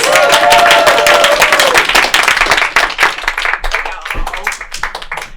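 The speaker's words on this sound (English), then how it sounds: "give a round of applause for Charm Tim!" A comedy club audience claps and cheers loudly for a comedian taking the stage, dense applause that thins out over a few seconds as a voice cuts in near the end.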